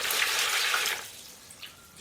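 Water splashes and pours from a household filter housing after the coarse filter cartridge is taken out, loud at first and then fading to a faint trickle within a second.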